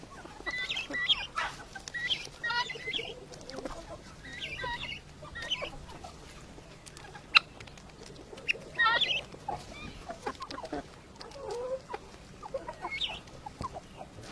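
Young chickens cluck and a white crested rooster calls intermittently nearby in autumn, with scattered squawks and rustling over a quiet farmyard background.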